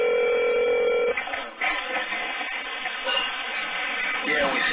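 Telephone line tones after a call disconnects: a steady electronic tone, then continuous buzzing phone-line noise with faint voices underneath.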